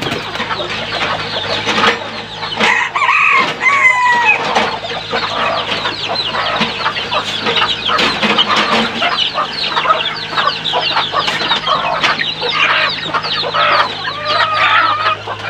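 Chickens cluck steadily around a farmyard where a hen has gone missing, with the odd louder squawk and a background hum, fairly close and without talk.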